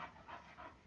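A lively, energetic dog on a leash pants in quick, rhythmic breaths, about three or four close, soft puffs within a second, heard alone without speech.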